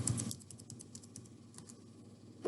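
Quick taps on a computer keyboard entering an eight-digit number, a run of light, close clicks in an uneven rhythm, quiet overall.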